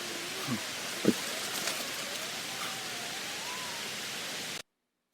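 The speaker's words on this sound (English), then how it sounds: "it's just a strange wavering tone that ascends in pitch" A faint, wavering tone slowly rises and drifts in pitch beneath a steady wash of rain-like hiss, with a brief knock near the start.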